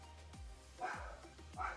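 A dog barks a few times in sharp yips at a distance, faint and indoors, under a low background hum.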